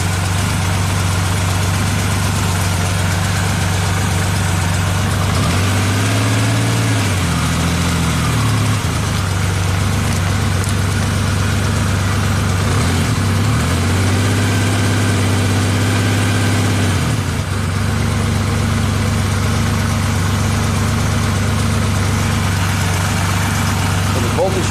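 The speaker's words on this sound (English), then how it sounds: "we got the bike running." A motorcycle engine runs steadily at idle, loud and continuous, with two brief rises in revs, while a person talks over it.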